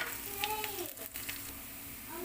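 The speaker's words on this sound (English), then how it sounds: "We just have to saute our onion until it gets translucent or change into a brown color." Onion and green chili sauté in a pan with a steady close sizzle and faint stirring scrapes. A voice talks briefly under the sizzle.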